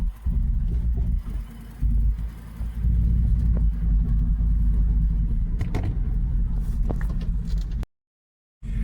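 A Hummer H2 with a bad encoder motor drives along with a steady, loud low rumble of engine and road noise lasting about eight seconds, then cutting to brief silence near the end.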